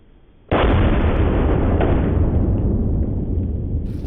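A pressurized 2-liter plastic bottle target bursts with one sudden loud blast, then a dense roaring wash that lingers and slowly fades over several seconds.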